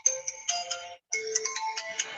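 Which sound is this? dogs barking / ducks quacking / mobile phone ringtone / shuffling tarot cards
mobile phone ringtone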